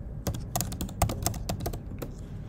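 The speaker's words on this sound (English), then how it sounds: "go to my web browser and type in" Rapid typing on a computer keyboard entering a web address into a browser, a quick burst of close, crisp key clicks in uneven rhythm.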